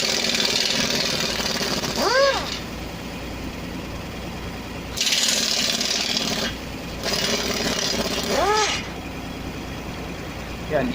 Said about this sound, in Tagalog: impact wrench yung ginagamit yan